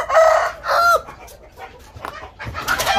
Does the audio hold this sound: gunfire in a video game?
no